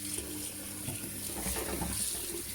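Tap water runs into a sink while strawberries are rinsed, a steady close splashing stream lasting the whole moment with small shifts as the fruit moves under the flow.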